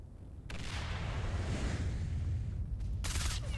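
Gunfire in the video game S.T.A.L.K.E.R.: Shadow of Chernobyl: after a quiet moment, a sustained rattling barrage of shots with booming bursts, loud and continuous.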